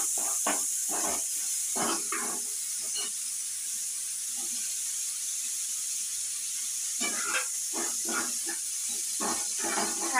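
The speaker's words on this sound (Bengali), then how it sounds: "তেল গরম হয়ে গেছে, তাতে আদা দিয়েছি, আদাগুলো ভাজা হচ্ছে এখন" Grated ginger frying in hot oil, a continuous bright hiss and sizzle throughout, with a person talking over it at the start and end.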